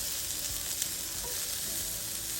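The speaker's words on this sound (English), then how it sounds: "You can go ahead and just toss your onions in there" Onions tossed into warm oil in a cast iron pan fry with a steady, soft, close sizzling hiss, with faint stirring and pan clicks, and no talking.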